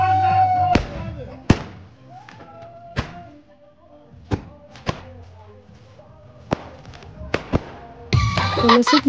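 Firecrackers set off on a flat surface during a Chaharshanbe Suri celebration, with sharp, loud bangs going off irregularly one after another, some close together, while people talk and laugh between the blasts.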